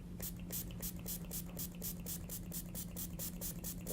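A spray bottle mists water onto model railroad scenery filled with sand or grout, giving soft rhythmic pumping bursts, about three per second, close and quiet, with a low steady hum behind.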